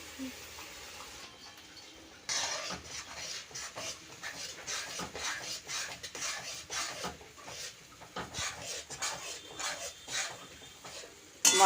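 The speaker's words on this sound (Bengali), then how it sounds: "পেঁয়াজ রসুন সব দিয়ে আমি বেটে নিয়ে এসেছি এটা দিয়ে দিচ্ছি মশ করে কষে নেব" A spoon scrapes and stirs a ground onion-garlic paste with cumin, coriander and ginger as it fries in a pan for spicy mutton curry, making irregular, rhythmic rubbing strokes at moderate volume.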